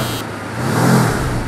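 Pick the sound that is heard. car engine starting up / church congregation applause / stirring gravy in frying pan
car engine starting up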